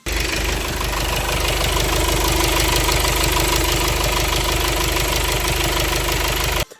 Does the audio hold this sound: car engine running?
yes